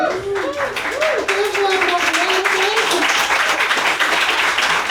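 Comedy show crowd breaking into applause that swells and holds as a dense wash of clapping, while a performer keeps talking over it at first.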